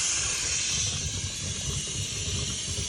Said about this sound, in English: You can hear a change in the steam release